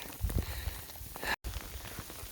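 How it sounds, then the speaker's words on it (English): Hail pelts down on a mountain trail on the Uinta Highline, a fairly quiet, steady patter of many small impacts with a slightly louder flurry near the start and a brief dropout partway through. "Getting pelted pretty good with the hail."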